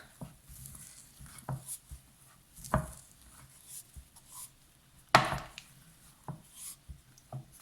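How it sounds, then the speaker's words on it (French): Sticky homemade bread dough gets mixed in a bowl to knock out air, giving quiet, irregular scraping and slapping strokes with a few sharper thumps. "tu mélanges ta pâte pour chasser l'air"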